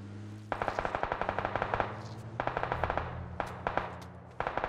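Rapid automatic gunfire in the PUBG video game, loud and close, in three sustained bursts of evenly spaced shots, each burst breaking off before another starts, with no talking over it.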